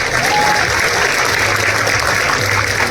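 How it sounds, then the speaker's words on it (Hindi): A large crowd of spectators at a literary festival in a stadium applauds loudly and continuously, a thick, sustained roar of clapping with no break. "एक बार तालियां जरा अपने लिए बजा लें।"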